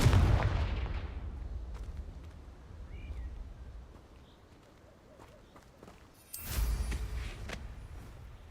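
A Confringo blasting curse explodes in Hogwarts Legacy. A loud, booming blast opens and rumbles away over several seconds, then a second sharp burst erupts near the end.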